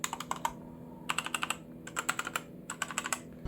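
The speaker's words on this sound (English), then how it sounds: "this is how the brown switches sound." Brown-switch keys on a HUO JI Z-88 mechanical keyboard clatter in quick bursts of crisp, close clicks separated by brief pauses, alone and fairly quiet.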